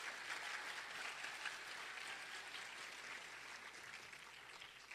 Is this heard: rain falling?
no